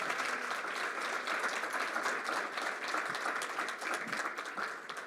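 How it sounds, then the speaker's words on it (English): An audience at the close of a conference session gives a steady, continuous round of applause, many hands clapping at a fairly soft, even level throughout. "If we could give a round of applause to Ian and Dr."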